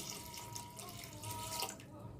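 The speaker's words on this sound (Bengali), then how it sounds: "এখন ডালে পানি দিয়ে দিলাম" Water pours steadily into a pot of cooked lentils for a couple of seconds, a close, gurgling splash that stops abruptly.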